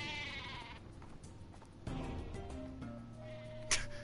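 The exploding sheep weapon in the Worms Battlegrounds video game bleats in a short wavering burst over game music and effects, followed by a sharp impact sound near the end.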